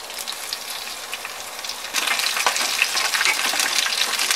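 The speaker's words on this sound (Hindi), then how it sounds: "स्लो टू मीडियम फ्लेम पे अच्छे से भून लेंगे इन्हें।" Almonds, cashews and coconut roasting in ghee over a slow to medium flame, a steady close sizzle that grows louder about halfway through.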